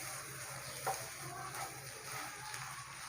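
Mashed boiled potato being stirred into a chicken macaroni samosa filling in a pan, a soft continuous scraping and sizzling texture with a few small bumps, no talking.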